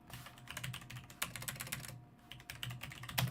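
Keystrokes on a Logitech G910 mechanical keyboard come in a quick, uneven run of close, quiet clicks and taps with brief pauses.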